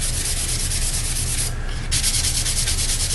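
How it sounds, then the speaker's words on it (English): Wood putty being sanded smooth on a model rocket, rapid rhythmic rasping strokes close by, with a brief pause before the scrubbing resumes. "If you sand it down, it gives it a nice smooth surface."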